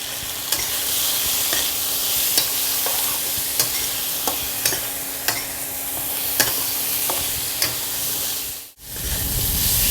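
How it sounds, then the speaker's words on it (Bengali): Tomato and turmeric sautéing in a pan for a vegetarian dish, a constant close sizzle with periodic scraping stir strokes and a brief dip near the end, no voices. "সব দিয়ে কষানো হয়ে গেছে"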